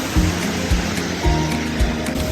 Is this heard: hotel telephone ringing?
no